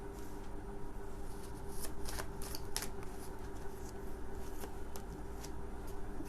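Tarot cards being shuffled and drawn, a steady papery riffle and slide with several crisp snaps of cards laid down, close and fairly loud over a low constant hum.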